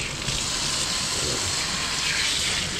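Strong water pressure from a tap gushing steadily into a sink, a loud continuous rushing hiss with no pauses.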